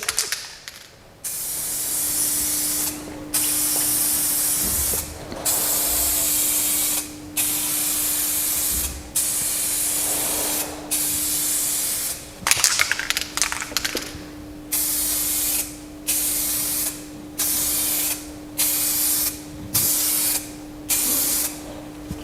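PlastiDip rubber coating sprays from an aerosol can in a long series of loud hissing bursts, each pressing of the nozzle separated by brief pauses, with a steady faint hum underneath.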